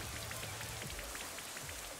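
Rain Dance move in a Pokémon Sword and Shield online battle produces a steady, dense patter of rain falling on a surface, loud and even throughout with no voices.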